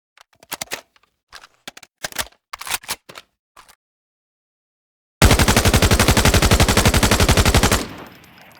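In the Arena Breakout Infinite video game, a T03 rifle chambered in 5.8×42 is fired on full auto, emptying the magazine in one loud, rapid burst of about two and a half seconds, preceded by sharp scattered weapon-handling clicks.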